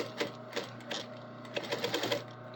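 A sewing machine top stitching stretch material runs in short bursts of rapid mechanical chatter over a steady motor hum.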